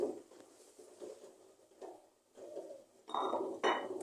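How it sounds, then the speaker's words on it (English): Onion cooking in a pan as it is stirred, with soft scraping strokes and light clinks against the pan, then brighter, louder sizzling rattles near the end, heard close with no voice. "After adding our onion, let's stir it for it to cook."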